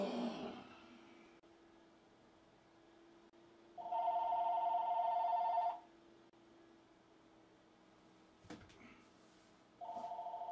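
A telephone rings in an indoor room, one long ring burst followed by a shorter one starting later, moderately loud over a quiet background hum, with no speech.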